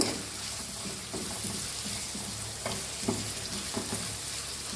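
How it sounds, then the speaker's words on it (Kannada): Green chillies sautéing in a hot pan for mutton pepper dry, a steady close sizzle and hiss of frying oil with occasional soft stirring scrapes and taps against the pan, no voices. "ಹಸಿಮೆಣಸಿನ್ಕಾಯಿ ಹಾಕ್ತಿದ್ದೀನಿ. ಸ್ವಲ್ಪ ಹೊತ್ತಷ್ಟೇ ಬಾಡಿಸ್ಬೇಕು."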